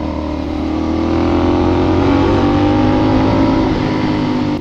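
A CFMoto 450SR motorcycle fitted with an SC Project exhaust revs loud and close, its raspy engine note climbing steadily in pitch as it pulls without interruption.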